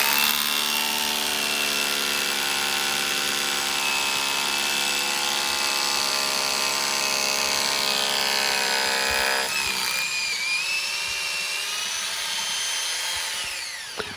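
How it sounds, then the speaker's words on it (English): A cheap hammer drill in hammer mode bores through a brick, a loud, steady buzzing grind that runs unbroken for about ten seconds, then shifts lower and rougher as the bit breaks through, with no talk. "I'm just putting that on a hammer drill mode, and I'm just going to drill that through now."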